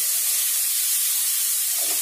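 Onions fry in a pan in a constant loud, bright hiss with no pauses, close and unbroken for the whole moment.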